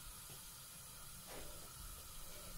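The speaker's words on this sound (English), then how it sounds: "See how they're sizzling now?" Mustard seeds sizzling in hot oil in a pan while cooking Bombay potato, a soft continuous hiss with a faint swell midway.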